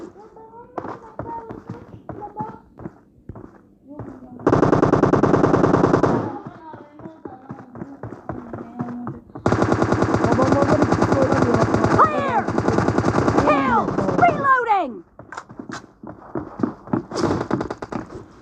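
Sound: gunfire in video game PUBG Mobile Lite

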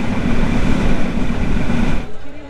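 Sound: Benapole Express passenger train running at full speed

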